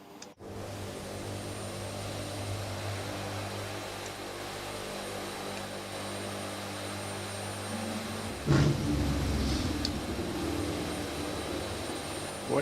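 A C-130 Hercules in a flight simulator game produces a steady droning engine hum with a constant tonal whine, continuous for the whole stretch, then a brief louder thump and shift near the end, with no talk.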